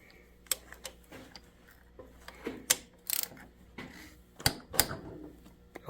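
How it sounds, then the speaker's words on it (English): A ratchet loosening the cylinder head bolts on a KTM 300 TPI during a top-end teardown, giving quiet irregular clicks and sharp metallic ticks in short bursts at close range, with no talking. "Loosen them in a crisscross pattern."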